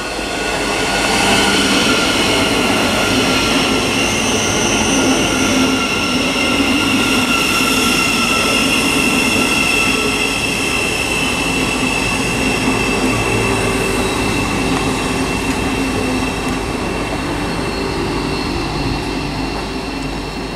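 A Thameslink Class 700 electric train rolls into Harlington station on the Midland Main Line, a loud, steady rumble of wheels and traction hum lasting throughout, with faint squeals from the rails and no voices.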